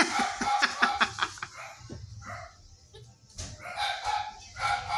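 A large hornbill that has strayed into a yard calls in loud, harsh, repeated honking bursts, close by, with short gaps between calls.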